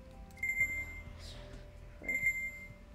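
A timer alarm in the video game Just Build sounds two short bursts of electronic beeping about a second and a half apart, over a low game background hum.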